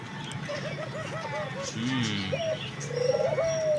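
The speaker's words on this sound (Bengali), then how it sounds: "ঘুঘু পাখি," A dove gives a quick series of soft rhythmic coos, followed by a few more calls over outdoor background noise on a rooftop garden, with people talking nearby.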